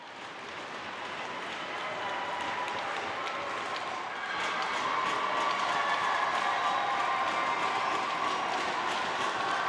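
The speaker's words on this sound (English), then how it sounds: "The crowd is loving it here in Listowel." A crowd at a junior hockey game in Listowel cheers and roars steadily on a Friday night, a dense wash of voices that swells louder partway through and holds.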